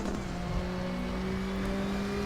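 A Volvo 240 Turbo accelerates around the Norisring circuit in a racing video game, its engine a steady close droning hum with rising tones and no talking.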